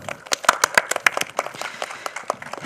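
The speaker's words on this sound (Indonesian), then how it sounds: "Tepuk tangan buat kalian semua." Audience applause at a live show, a spread of brisk claps with sharp hand slaps, moderately loud and lasting a few seconds, with a faint voice mixed in.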